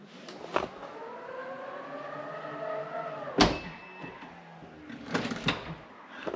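A Tesla Model Y's automatic door whirs shut on its own, a faint electric motor hum rising steadily for a few seconds before a sharp latching clunk, with later soft clicks and knocks.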